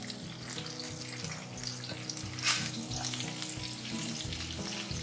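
Cabbage, carrots and capsicum stir-frying for chicken chowmein, a soft, continuous sizzle with one brief louder splash of hiss midway and a faint tonal backdrop.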